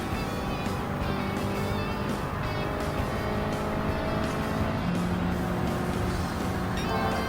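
Alpine A110 '17 engine in Gran Turismo 7 during a time trial at Watkins Glen, a steady, loud continuous drone held throughout as the car pushes up through the gears toward the next turn.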